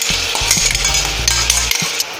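Tomato puree hits melted butter in a hot pan, giving a loud continuous sizzle with scraping stirring strokes close by and no talking.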